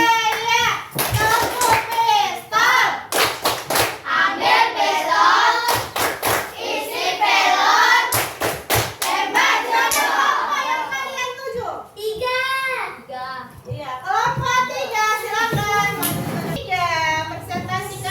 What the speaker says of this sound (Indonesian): mari kita tepuk pistol untuk menentukan siapa yang presentasi duluan